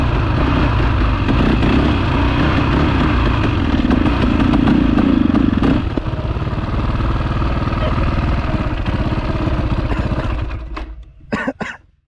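An old dirt bike with an FCR carburetor runs steadily and loudly for about ten seconds, its engine note rising briefly midway, then dying out near the end with a few sputters.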